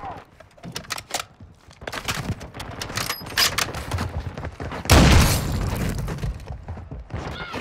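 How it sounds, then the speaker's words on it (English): Scattered gunfire pops and bursts in Call of Duty: Modern Warfare II, building to one heavy booming blast with a lingering rumble, mixed with game chatter and voices. "I'm taking fire."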